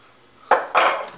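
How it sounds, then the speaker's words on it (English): A metal spoon clinks against a blender jar as it is pulled out, two bright clattering knocks in quick succession with a brief metallic ring, close and alone. "I better take the spoon out first."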